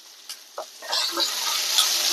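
Ivy gourd with salt and curry leaves is stir-fried in a pan, opening with a few light scrapes and taps before settling into a steady, close, hissing sizzle.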